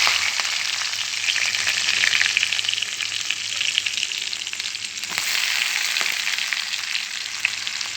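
Onions frying in oil in a pan for a tomato and egg dish, a dense, continuous close sizzle with faint stirring scrapes underneath and no speech.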